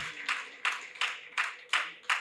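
Listeners at a Hindi kavi sammelan clap in six separate bursts, each sharp at the start and trailing off, with short gaps between them and background talk underneath.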